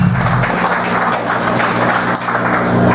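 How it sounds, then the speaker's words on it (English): Concert crowd at a hardcore show clapping for the band, a dense steady wash of applause at close range with low stage hum underneath, no voices standing out. "Clap for them again,"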